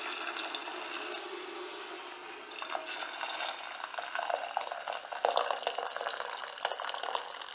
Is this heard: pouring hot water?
yes